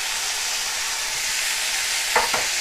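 Spinach stalks and green chilies sizzle in a pan for a Bengali palong shaker ghanta, a steady close frying hiss with a couple of brief stirring scrapes near the end.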